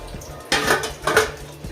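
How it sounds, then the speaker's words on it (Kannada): An idli steamer pot being set in place with water inside: two distinct metallic clanks of the pot against the stove, close and clear, with quiet kitchen background between. "ನಾನು ಇಡ್ಲಿ ಪಾತ್ರೆ ಇಟ್ಟಿದ್ದೇನೆ. ಈ ಪಾತ್ರೆಯಲ್ಲಿ ನೀರಿಟ್ಟಿದ್ದೇನೆ."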